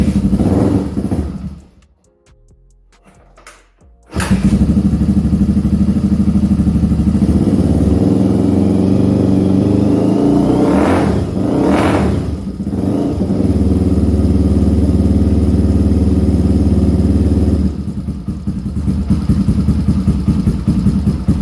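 A 1985 Honda ATC 350X three-wheeler, choke on, catches after a brief quiet moment and settles into a loud, close, steady idle with throttle blips and revving, running on for many seconds.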